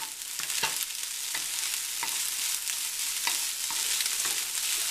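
Leftovers stir-fry in a hot pan with a steady loud sizzle, punctuated by repeated scraping and clacking strokes of a spatula moving the food around, and no one speaks.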